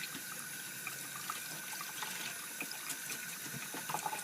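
Cold water running from a tap into a sink while a baseball hat is washed with shampoo, a steady close hiss and splash with small trickling bursts, no talking.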